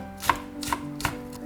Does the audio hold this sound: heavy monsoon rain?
no